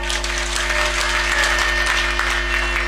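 An audience at a Marathi spoken sermon or kirtan gathering breaks into sustained, dense applause, many hands clapping steadily and evenly for several seconds over a constant low hum from the sound system.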